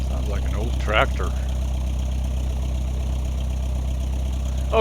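The XCrafts ERJ jet engine in the X-Plane simulator idles with a steady low, rumbling hum, while someone briefly speaks over it near the start.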